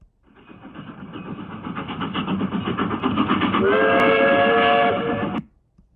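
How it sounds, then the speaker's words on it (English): A train chugs along with a rhythmic, rising rumble that builds steadily, then a sustained steam-style whistle sounds loudly over it near the end before cutting off abruptly. "It's an audio clip of a train chugging along."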